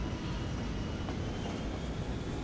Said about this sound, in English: Just want to see if we can drive this train and see what route it takes